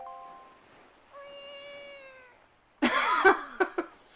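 A character in the video game The Legend of Zelda: The Wind Waker gives two drawn-out, tonal cat-like meows, a voice imitating a cat. A burst of louder, noisier cries and short yowls follows.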